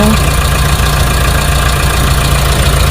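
Used car engine idling during an inspection, running a little rough, with a steady low rumble and faint knocking texture held close and constant throughout.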